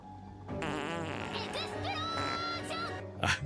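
A soundboard fart sound effect, triggered by mistake during a Baldur's Gate 3 game session, plays as one drawn-out, buzzy, wavering blast lasting a few seconds, loud and up front.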